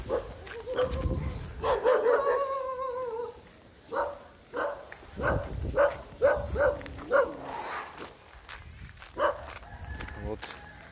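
Several dogs bark repeatedly in a Thai village near Pattaya, with roosters crowing among the barks, all fairly close and loud.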